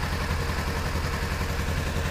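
A warmed-up Kawasaki Ninja 300 motorcycle engine idles close by with a steady, pulsing rumble and a mechanical clatter. The engine runs alone, with no talking.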